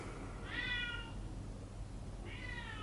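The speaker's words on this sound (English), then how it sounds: "My roommate's cat's throwing herself against my door again." A female house cat meows twice, with a pause between the calls, close by and fairly clear over a steady low rumble of room noise. No thumps against a door stand out.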